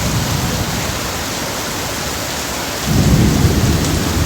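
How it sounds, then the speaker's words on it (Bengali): Heavy Malaysian downpour roars as a loud, steady wash of rain, then a deep rumble of thunder rolls in partway through and swells beneath the rain to the end. "প্রচুর পরিমাণ বৃষ্টি"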